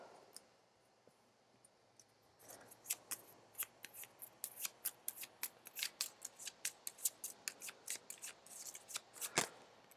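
Gloomhaven monster ability cards are shuffled up close, a quiet pause giving way to a rapid, steady run of crisp riffling snaps that continues for several seconds, with no one talking.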